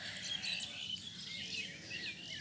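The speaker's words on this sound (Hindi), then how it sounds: "प्रातः काल चिड़ियों की चहचहाहट कितनी अच्छी लग रही है, सुनाई पड़ रही होगी आपको भी।" Faint birds chirp and twitter continuously in the distance at sunrise, a soft busy morning chorus over a quiet outdoor background.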